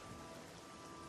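Steady rain hisses in the Oblivion video game, a constant even wash of falling drops with no breaks or other sounds over it.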